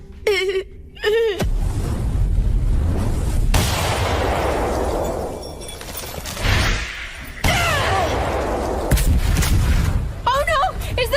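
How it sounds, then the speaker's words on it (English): Explosive rumbling and crashing fill an anime scene as a building blows apart, a long, dense roar of blasts and debris with sharp booms, while voices shout over it near the start and end. "Is the building exploding?"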